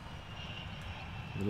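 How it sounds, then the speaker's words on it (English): A low-flying plane in Farming Simulator 19 drones as a steady engine hum, fairly faint and building slightly toward the end of a short stretch. "The low plane."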